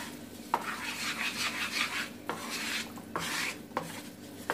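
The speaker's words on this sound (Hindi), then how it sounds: "करीब 2-3 मिनट इसको अच्छे से चलाना है।" Spoon scraping and stirring melted jaggery in a pan for til gud ladoo, a steady soft rasping with a few sharp clinks against the metal, close and alone.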